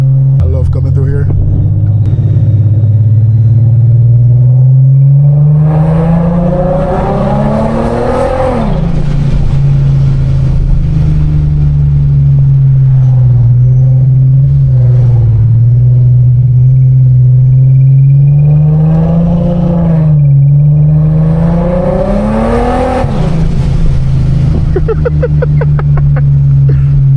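Loud, close engine of a 700 HP Infiniti G37 droning steadily, with two distinct revving pulls that rise in pitch and fall back, plus some faint talk underneath.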